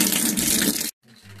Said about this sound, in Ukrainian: бігла вода через верх, побігло відро